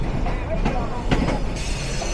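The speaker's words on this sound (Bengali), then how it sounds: "পদ্মা এক্সপ্রেস যাত্রী নামানোর জন্য ২ নম্বর প্ল্যাটফর্মে ইন করছে।" Padma Express passenger train pulling into platform 2 at Airport railway station at night, with steady rumbling and hiss of the train under background voices and station noise.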